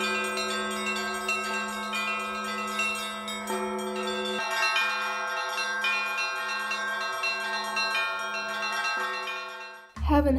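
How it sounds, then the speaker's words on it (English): Church bells ring out from a small bell tower in winter Yakutsk, a sustained, resonant peal of layered overlapping tones carrying steadily throughout, ending with a sudden louder clunk at the very end. "there was a little church with a bell tower right around the corner of the museum"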